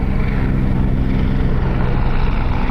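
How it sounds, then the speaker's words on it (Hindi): A formation of five twin-engine Apache helicopters flies at the Hindon airbase air show, heard as a loud, steady, broadband rotor and engine roar filling the air with no voices. "और अब आप इन हेलीकॉप्टर्स को देखें।"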